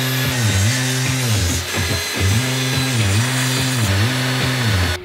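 A power saw cuts through flattened birch wood in a steady, loud whine that dips in pitch rhythmically as the blade bites, close and continuous.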